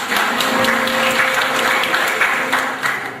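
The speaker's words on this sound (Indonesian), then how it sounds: "Tepuk tangan dulu." A church congregation at a worship service in Depok gives a loud, close round of applause, sustained clapping throughout with a faint low hum of voices or instruments underneath.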